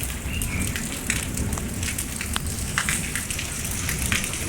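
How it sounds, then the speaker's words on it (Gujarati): Heavy monsoon rain pours down in a windy storm, a dense, steady roar of drops drumming on surfaces up close with no break. "જો બહુ જ જોરદાર વરસાદ, વાવાઝોડું બહુ જ છે."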